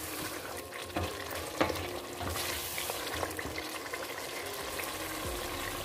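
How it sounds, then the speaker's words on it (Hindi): Meat for palak gosht sautés and gets stirred in a pot, a steady mid-level frying sizzle with scattered scraping and clinking of the spoon against the pot, no voices. "इसको मैंने 2 से 3 मिनट तक अच्छे से भून लिया है।"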